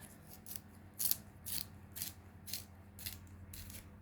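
A poor-quality handheld sharpener grinds a pencil close up, with a steady rhythm of short scraping turns about twice a second, soft and alone.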